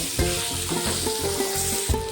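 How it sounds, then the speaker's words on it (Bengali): Boiled potatoes fry in oil with cumin, a bay leaf and turmeric, sizzling steadily in a pan with a few soft stirring scrapes, close and clear. "দিয়ে ভালোভাবে আলুটাকে ভেজে নেব"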